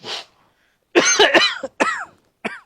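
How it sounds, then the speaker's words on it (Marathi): A few harsh, close coughs in short bursts: one brief cough, a pause, then a cluster of rough hacking coughs and a final short one. "हा जरा खोकला येतोय"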